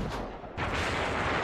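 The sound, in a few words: cannon fire landing nearby in video game Hakuoki: Kyoto Winds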